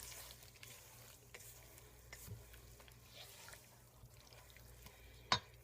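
A spoon stirs milk through a chicken and rice mixture in a pan, giving a soft, faint scraping and gentle bubbling with light clicks and one sharp knock near the end.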